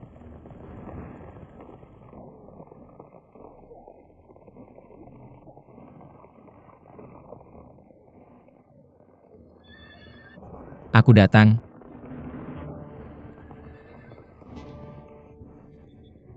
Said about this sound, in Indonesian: Kuda yang bagus. Seperti yang ada dalam legenda. Sangat langka.